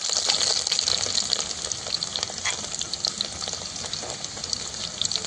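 Whole garlic cloves frying in hot oil for lasuni methi, a steady loud sizzle and crackle throughout with faint stirring scrapes, close up and with no talk over it.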